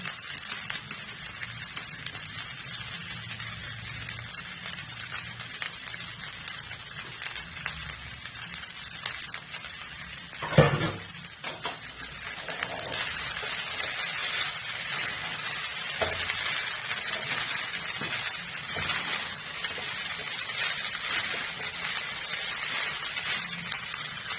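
Carrot and capsicum hit the pan for fried rice and give a steady mid-level sizzle. A sharp clatter sounds partway through, then the frying noise swells and runs on continuously without speech.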